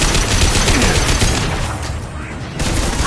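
Rapid, dense gunfire in the Mass Effect video game, a continuous loud barrage with no gaps across the whole stretch.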